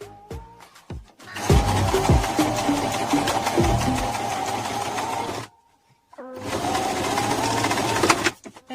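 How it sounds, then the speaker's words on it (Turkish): A sewing machine stitches bias tape along the seam allowance of fabric, running in a loud steady whir, stopping briefly for a short pause, then whirring on again close up. "Ve tekrar dikiş payından dikmeye devam."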